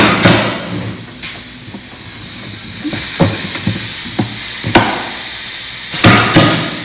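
Blind stapler shooting staples through a face frame into a cabinet box, several sharp pneumatic snaps with short hissing bursts spaced irregularly over steady background hiss, fairly close and loud.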